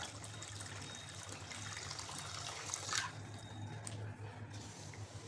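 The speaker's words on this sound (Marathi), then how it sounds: "भरपूर पाणी टाकायचं." Water poured generously over finger millet being rinsed in a kitchen: a steady, faint gushing and trickling wash with one brief louder splash near the middle, no talking.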